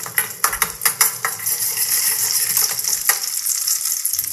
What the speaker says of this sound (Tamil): நெய் காஞ்ச உடனே நம்ம பொடி பொடியாக நறுக்கிய தேங்காயை வந்து முதல்ல சேர்த்துக்கலாம்